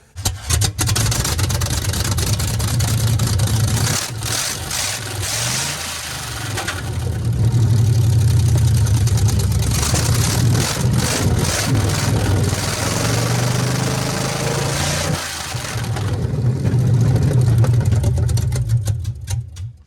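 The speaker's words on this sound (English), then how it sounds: "We confirmed that the engine does run and drive, which we all knew it would because it's a Chevy." Chevy engine in a budget build with DIY fenderwell headers idles loudly and close, a rough barking drone that swells and dips with throttle blips over about twenty seconds.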